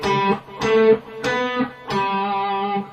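Classical guitar playing two short phrases from a Bach piece, bar 26, plucked notes sounding as four distinct attacks with sustained ringing tones, close and clear without talking.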